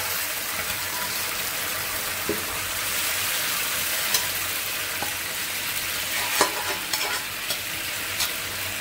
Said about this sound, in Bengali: মাংসটা দিয়ে ফোড়ন দিয়ে দিলাম।